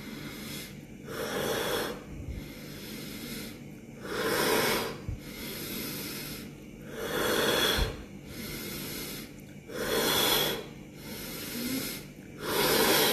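Rhythmic pranayama breathing exercise, slow even cycles of deep breaths through the nose, each long airy inhale and exhale rising and falling in a steady repeating pattern, close and clear with no talking.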